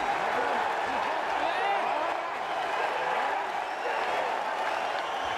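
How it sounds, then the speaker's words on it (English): Boxing arena crowd at a 1998 Arturo Gatti vs Ivan Robinson fight applauding and cheering as a round ends, a steady, dense roar of clapping and voices with no break. "Crowd loving it."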